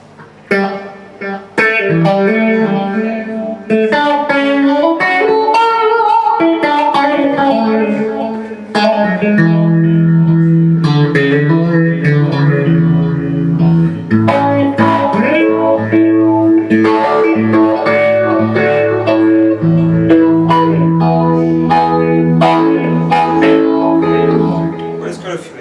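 Guitar played through an effects unit, chords and notes trailing into echoing repeats and washy reverb, sustained and fairly loud.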